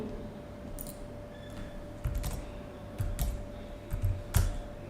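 Keys clacking on a computer keyboard while working in a Python code cell, a few sparse, quiet clusters of taps over a low steady hum, close by and with no talk.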